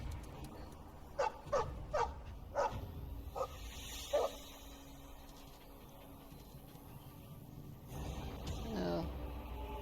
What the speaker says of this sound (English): Oh, there's a puppy.